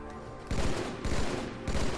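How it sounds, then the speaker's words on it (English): Battle rifle fire in Halo 2, three loud bursts of rapid shots about half a second apart, each a cluster of sharp cracks over a steady game background hum. "Why does it take so many BR shots?"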